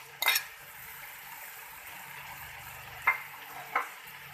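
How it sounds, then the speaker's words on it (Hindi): Macaroni stirred in a pan, faint soft scraping under a low background, with a few sharp metallic clinks of the spoon against the pan near the start and end. "मैक्रोनी डालने के बाद इसको अच्छी तरह से मिक्स करेंगे।"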